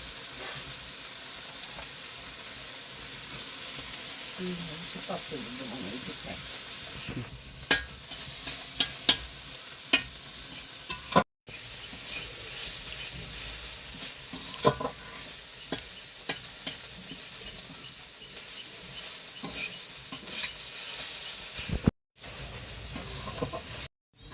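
Sliced onions and chopped garlic fry in a pan for stuffed bitter gourd filling, a continuous loud sizzle with occasional stirring clicks, briefly cut off twice.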